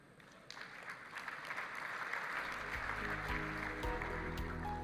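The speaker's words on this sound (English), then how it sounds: "a little more applause" A forum audience applauds as a Tanzanian agriculture ministry official is welcomed and walks up to the microphone. The clapping stays faint at first, then builds into steady, fuller applause with talk over the last seconds.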